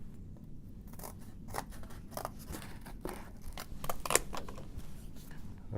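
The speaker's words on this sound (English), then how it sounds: "it might be better to use scissors." Scissors cut through cardboard in a steady series of crisp snips, close and fairly quiet, each cut a sharp crunchy click repeated about once or twice per second.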